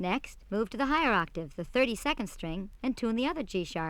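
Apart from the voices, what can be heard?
No everyday noise stands out behind the speech.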